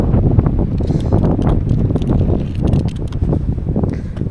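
Strong wind sweeps across the top of Nakta Pahad, a hill in Jharkhand. It blows in a continuous low roar with gusty swells, buffeting the microphone the whole time, and no one speaks.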